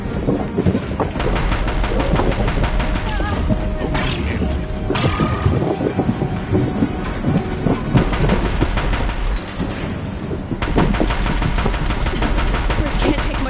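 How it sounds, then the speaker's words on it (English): Deathbringer machine guns in Horizon Zero Dawn fire loud, rapid, sustained bursts in a dense rattling stream, briefly dropping away near the middle before resuming, with game sounds underneath. "If the Deathbringers keep firing, this bridge will go."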